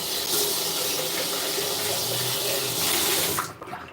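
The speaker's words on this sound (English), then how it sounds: "So we're gonna pour a little bit of almond milk." A steady, close rush of almond milk being poured into a blender, a continuous liquid hiss that holds evenly for several seconds before tapering off abruptly at the end.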